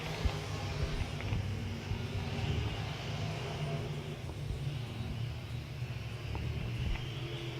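IMCA modified race cars roar around a speedway in a steady, distant, rumbling drone that holds throughout.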